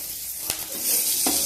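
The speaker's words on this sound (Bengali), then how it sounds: "নুন হলুদ দিয়ে ভাজা ভাজা করছি।" Sliced onion and dried red chilli fry in oil with salt and turmeric for a masoor dal tempering, giving a close, continuous sizzle broken by a couple of sharp stirring scrapes.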